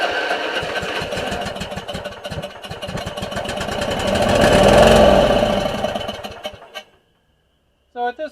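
A Murray-made Stanley GT lawn tractor engine cranks with rapid rhythmic chugging, catches and swells briefly into a loud run, then dies away to silence before a short final burst.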